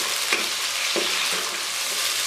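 Chopped tomatoes hitting frying onions in a pot for chana pulao, a loud continuous sizzle with a few brief scraping stirs breaking through, close and steady throughout.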